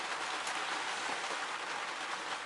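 Rain falls steadily on a sailboat, a soft, even hiss of drops with no breaks, faint and close, nobody speaking.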